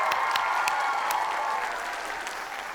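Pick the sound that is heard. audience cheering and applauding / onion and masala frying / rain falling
audience cheering and applauding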